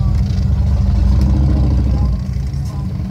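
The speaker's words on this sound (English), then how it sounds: "There's some loud motorcycles behind me." Loud rumbling motorcycle engines idle and rev close by behind the speaker, a heavy throbbing low growl that eases slightly near the end.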